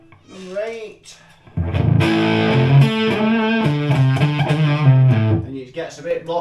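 An electric guitar played through a Fender 57 Custom Champ tube amp driving a 4x12 cabinet, with a loud, sustained, distorted chord ringing out after a brief quieter lead-in.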